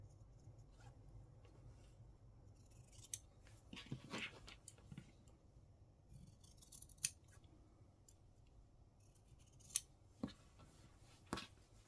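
Scissors snip through fabric and interfacing along a marked line for a water bottle holder, faint and close, with a few sharp isolated cuts spaced over quiet room tone.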